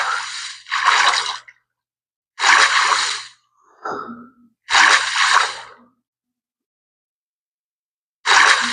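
Water in the Minecraft video game, heard underground near deepslate: bursts of splashy, rushing water noise, about four separate surges of under a second each with silent gaps between, fairly close and clear with no talking.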